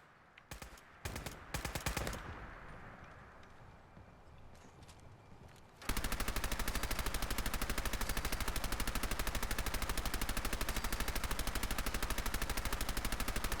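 Rapid, sustained gunfire erupts in a Fallout 4 Far Harbor fog battle, loud and continuous for the second half after a noisier, scattered opening.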